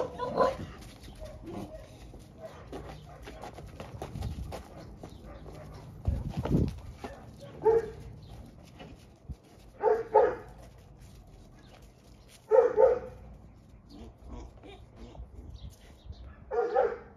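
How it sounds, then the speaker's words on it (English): A young Cane Corso barks in a few short separate bursts spread out over the stretch, moderately close, with rustling, scuffing and quiet background movement in between. "That's a Chaos granddaughter. Young Kane Corso"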